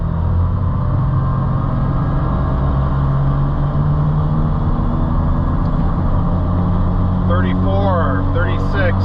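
A side-by-side utility vehicle's engine drones loud and steady throughout while accelerating on a test drive, with a voice briefly heard near the end.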